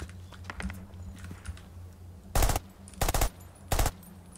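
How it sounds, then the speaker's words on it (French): Short bursts of rapid automatic gunfire in the shooter Project L33T, three loud volleys in quick succession after quieter game ambience and faint clicks, no talk. "il me tire dessus direct!"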